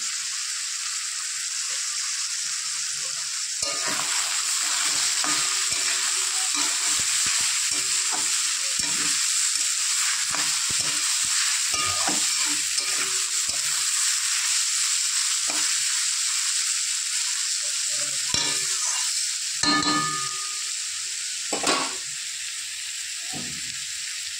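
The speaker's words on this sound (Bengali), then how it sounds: "এই ভাজাটা গ্যাসের আগুনটা একটু কমিয়ে হালকাভাবে নেড়ে নেড়ে ভাজতে হবে" Fried dish with salt and turmeric, sizzling in oil over a lowered gas flame, a steady crackling hiss with frequent soft scrapes and clinks as it is stirred gently, some sharper knocks near the end.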